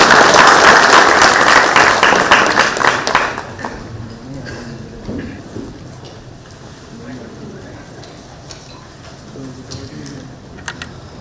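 Audience applause at a sales summit greets a speaker, loud dense clapping for about three seconds, then it fades quickly into low room noise with faint scattered sounds.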